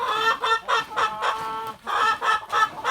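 Homestead chickens in winter cluck in a steady series of loud, close, harmonic calls with brief pauses between, no voices present.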